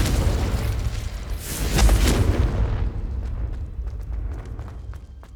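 A Confringo explosive spell goes off in the Hogwarts Legacy video game: a loud, deep boom swells around the two-second mark, then a rumbling tail fades into scattered crackles.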